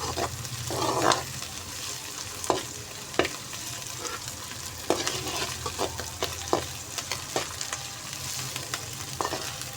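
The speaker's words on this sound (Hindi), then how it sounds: "अब इसको हमने लहसुन अदरक को प्याज के साथ अच्छे तरीके से फ्राई कर लेना है 1 मिनट लगाकर" Garlic, ginger and onion frying together in a pan for dhaba-style aloo gobi, a moderate steady sizzle with intermittent scraping stirs and light clinks, heard close without any voices.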